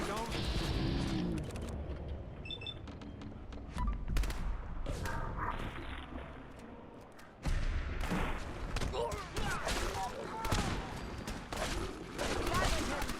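Gunfire in the Far Harbor expansion of Fallout 4, rapid bursts and volleys mixed with shouting voices, dog-like barks and a busy, chaotic battle din throughout.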